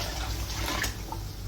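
Cold tap water runs steadily into a pot of peas, a close, continuous splashing rush with no voices.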